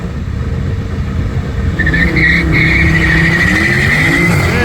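A naturally aspirated V8 Mercedes C63 launches off the line at a drag race, engine roaring louder as tires spin and squeal in a rising high-pitched screech midway, loud and close.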